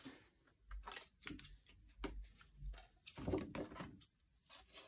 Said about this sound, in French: Je vais venir couper du coup la longueur totale.